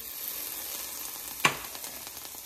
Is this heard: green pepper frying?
yes